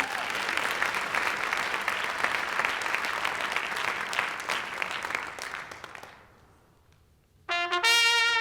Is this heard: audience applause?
yes